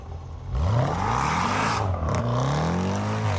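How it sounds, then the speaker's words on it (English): A Range Rover Sport with a supercharged 5-liter V8 starts and revs up loudly, its engine tone climbing, dipping briefly, then rising again in a sustained close-up roar. "the beastly 5-liter V8 with a supercharger, pumping out 518 horsepower"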